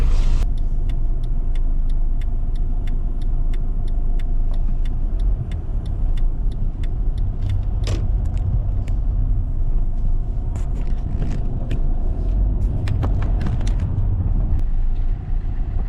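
A Mercedes taxi drives through city traffic in Kyiv, giving a continuous low cabin rumble of engine and road noise with occasional clicks and light knocks inside the car.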